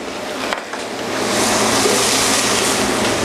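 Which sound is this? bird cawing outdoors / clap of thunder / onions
onions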